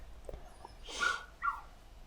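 A dog lets out a couple of faint, brief whimpering yips followed by a short bark, somewhat distant in a quiet indoor room.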